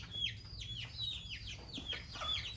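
Chickens in a budget coop built with polythene flooring and coffee husk litter give steady, overlapping clucks and short calls in a repeating rhythm, close by and moderately loud, with no talking.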